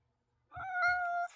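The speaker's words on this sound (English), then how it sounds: "hard-headed cat" A domestic cat gives a single clear, drawn-out meow close by, on its own, with no voices over it.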